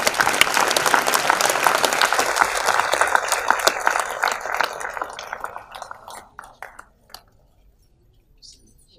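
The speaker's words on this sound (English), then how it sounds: "A big round of applause, please." Enthusiastic audience applause at the 5th International Conference of CAHOCON as actress Sonali Bendre is welcomed on stage. The clapping is loud and full, then tapers off after about six seconds into near silence with a few stray claps.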